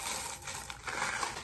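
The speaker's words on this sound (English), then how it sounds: "I'm just going to pour a few wax beads in there to start." Small blue wax beads are poured into a wax warmer, giving a steady, close rattling hiss of many tiny pellets tumbling together for about a second and a half with no talking.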